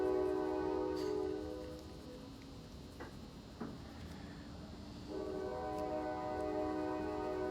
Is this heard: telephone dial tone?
no